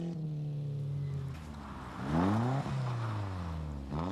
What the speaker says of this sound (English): This is George Elliott in an Escort Cosworth